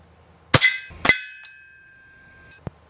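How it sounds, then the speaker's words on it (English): A Benjamin 312 .22 walnut and brass air rifle fires two sharp shots about half a second apart. A bright metallic ring from the can follows and trails off, then a small tick comes near the end. "So the first shot, there is no rear sight on this, so I'm hoping I can hit the can."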